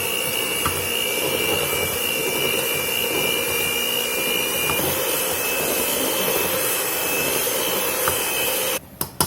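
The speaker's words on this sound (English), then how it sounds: "I'm just going to run the blender through here a minute or two." A steady, loud mechanical whir runs continuously for several seconds, a motorized blender churning potatoes without pause, cutting out abruptly near the end.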